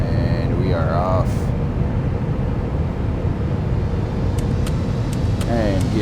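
Airbus A330-900 jet engines roar at takeoff power in the MSFS 2024 flight simulator, a steady loud broadband rumble, with someone talking over it throughout.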